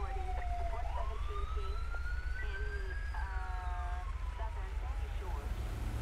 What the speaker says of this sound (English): now I hear the sirens again